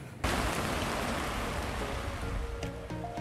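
Heavy rain pouring onto a sailboat anchored in a hurricane hole during a storm, a dense, loud, continuous hiss that starts abruptly and holds steady throughout.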